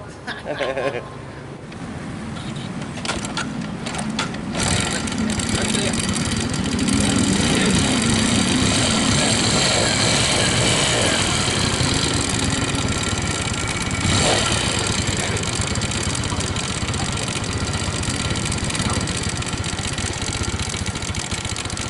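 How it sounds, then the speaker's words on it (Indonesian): A Yamaha Jupiter motorcycle engine, rebuilt less than two weeks earlier, idles steadily and loudly up close, with a rough, uneven knocking rattle running through its rumble. "untuk di motor Jupiter ini udah bunyi seperti ini teman-teman"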